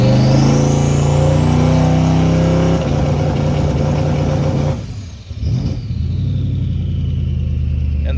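A twin turbo Terminator Cobra engine revs loud and close at full throttle, its pitch climbing steadily before a brief drop and dip near the end, then picking back up into a sustained roar.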